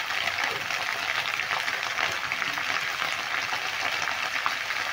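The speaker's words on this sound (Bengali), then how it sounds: "পেঁয়াজের কলিটাও পেঁয়াজের সঙ্গে আমি ভালো করে নেড়ে নিচ্ছি।" Onion stalks and chopped onions frying together in a pan give a steady, dense sizzling hiss, held at an even level throughout with faint stirring inside it.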